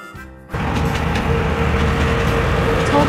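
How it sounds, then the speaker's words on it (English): Tulpar-Talgo high-speed train from Kazakhstan running at speed, a steady loud rumble and rushing roar that cuts in abruptly after a brief quieter moment and holds constant to the end. "Tulpar-Talgo train is from Kazakhstan."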